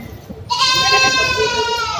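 Goats bleat loudly and close at a busy livestock market where native goats are weighed and sold, one long wavering cry starting abruptly over low crowd murmur.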